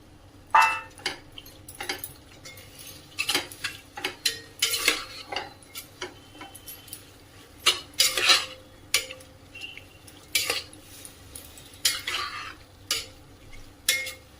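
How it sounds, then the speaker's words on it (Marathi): Prawns sautéed in a pot, heard as frequent clanks and scrapes of a spoon stirring against the metal, fairly loud and irregular, with a low sizzle underneath and no talking. "ही कोळंबी आता त्यामध्ये टाकून छान परतून घ्यायचं व्यवस्थित"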